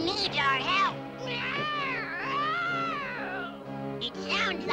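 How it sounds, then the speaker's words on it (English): A cartoon cat cries in pain in a Smurfs episode, a series of long, wavering, high-pitched meows and wails rising and falling close by, loud and clear with no other sound. "It sounds like an injured cat."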